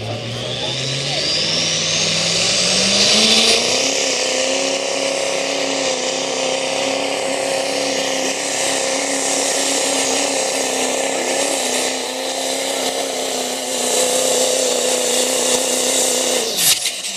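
A diesel truck at an NHRDA truck pull in Bakersfield climbs from a low rumble to a loud, high-revving roar, then holds a sustained, strained drone for many seconds before cutting off abruptly near the end.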